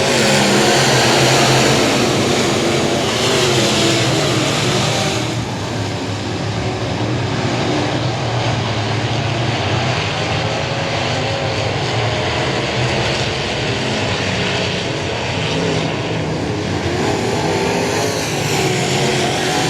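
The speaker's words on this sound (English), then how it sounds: "Revving up those engines one more time." IMCA race car engines rev and accelerate together at I-37 Speedway, a dense, loud roar that swells and drones continuously for the whole stretch with no talk.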